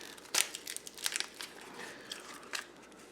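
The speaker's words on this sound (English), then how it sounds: "They do put these in a pretty heavy gauge plastic bag, which is good." Crinkling and crunching of a heavy gauge plastic bag holding jerky from a Canadian field ration as it is handled and opened up close, in a series of irregular sharp crackles separated by short pauses.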